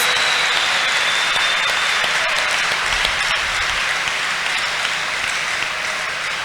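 A church congregation clapping their hands together, a loud, dense, sustained burst of applause filling the room with no talking.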